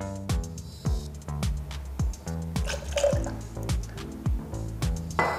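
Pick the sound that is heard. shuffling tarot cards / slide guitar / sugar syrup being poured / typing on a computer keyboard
sugar syrup being poured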